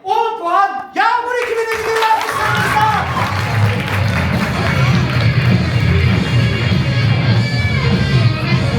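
An audience at a Turkish improv theater show claps for the winning team, with a sustained burst of applause and a few cheers rising right after a brief spoken announcement and continuing steadily to the end.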